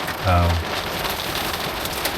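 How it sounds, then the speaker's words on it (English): Steady rain patters on a van roof overhead during a thunderstorm, a dense continuous hiss with a brief low hum near the start. "Rain will soon pass."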